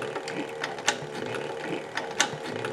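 An Artisan Toro 3200 sewing machine stitching leather gives a steady mechanical whir with a few sharper clicks of the needle and feed, close and moderately loud.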